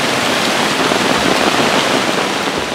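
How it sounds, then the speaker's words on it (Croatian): Heavy monsoon rain pours down in Sri Lanka as a dense, loud, unbroken roar of falling water, constant and close, with no other sounds. "kiša pada nemilice već satima"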